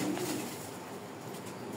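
A racer pigeon cooing softly, a brief low murmur against a faint, steady background with no talking.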